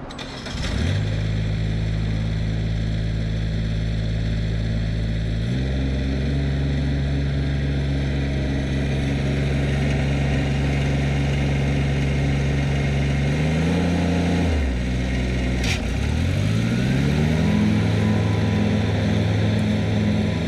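A Grasshopper 725D mower with a Kubota diesel engine runs steadily up close, its low drone shifting pitch several times as it throttles up and down through the cut, with no talking.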